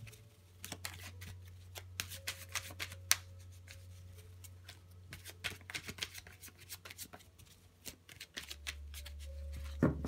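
Tarot cards are shuffled by hand in a steady sequence of soft riffling and slapping bursts, close and moderately quiet over a low background hum, with no talking.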